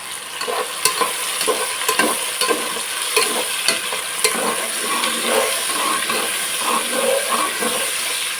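Capsicum sizzles in hot oil for vegetable biryani, a loud continuous frying hiss broken by repeated spatula scrapes and knocks against the pan, close and without talk.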